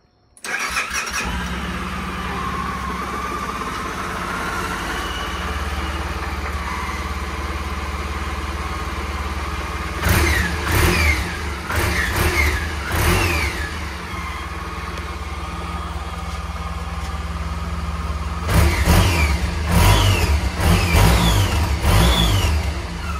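A 2006 Suzuki Burgman 650 scooter with its stock exhaust starts, settles into a steady idle, then gets two sets of sharp revving blips, alone and close by with no talk.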